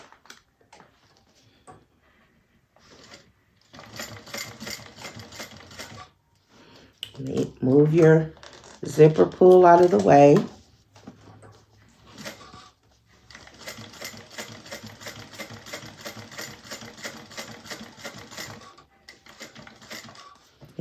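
A sewing machine stitches a zipper onto a wallet in several bursts of steady rapid needle clatter, with short pauses between runs and a person speaking briefly in the middle.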